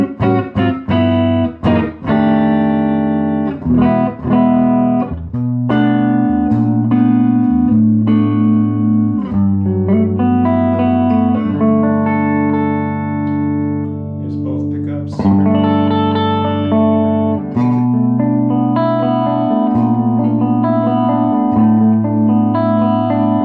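A Heritage H150 electric guitar on its neck pickup plays clean through a Louis Electric Buster tweed-style amp with a touch of reverb, a loud run of picked notes and ringing chords with no talking.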